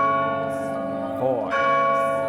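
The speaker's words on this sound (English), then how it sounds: "at noon on the day of the festival, the church bell tolled" A church bell tolling at noon on a festival day in the video game The House in Fata Morgana, rich sustained ringing tones with a shifting strike near the middle, loud and clear over a voice.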